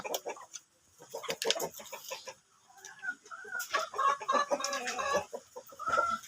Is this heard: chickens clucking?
yes